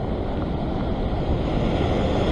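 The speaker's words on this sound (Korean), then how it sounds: "파도 이렇게 칩니다" Ocean waves crash at a shoreline fishing spot called Shark Point, giving a loud, continuous wash of surf mixed with heavy wind buffeting the microphone, with no distinct breaks.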